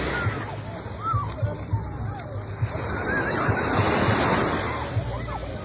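Sea waves wash onto a beach in a continuous, fairly loud roar of surf and splashing, swelling and easing, with people's voices faintly present in the background.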